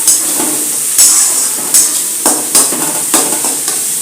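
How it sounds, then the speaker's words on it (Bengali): Tomato paste being stirred into egg and cabbage in a pan, a loud, close sizzle with a regular series of spoon scrapes and knocks roughly every half second. "মানে পেস্টটা আমি মিশিয়ে দিলাম"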